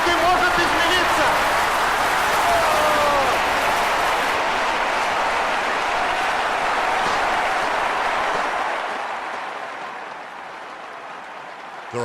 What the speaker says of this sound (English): They're all cheering.